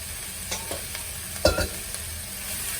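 Beef fries in a pan with cooked-out tomato puree, a steady close sizzle broken by a few soft scraping knocks of stirring, with no talk.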